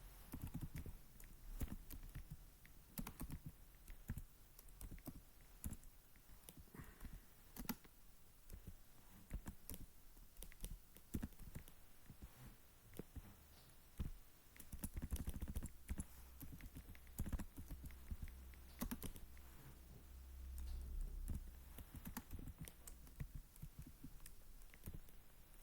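Keys on a computer keyboard are tapped in irregular bursts of soft clicks, close and quiet, with short pauses and a slightly louder stretch in the middle, and no speech.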